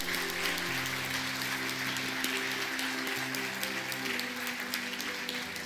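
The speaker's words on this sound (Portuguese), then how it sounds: "Pode aplaudir a Ele, meu irmão" A church congregation applauds in a continuous dense patter while sustained organ or keyboard chords hold and shift underneath, the clapping fairly distant and steady throughout.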